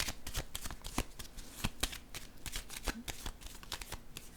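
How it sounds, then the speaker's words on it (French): Cards are shuffled and handled by hand in a steady run of crisp riffling snaps and ruffles, close and fairly quiet, with no talking. "là je vais piger une carte ici"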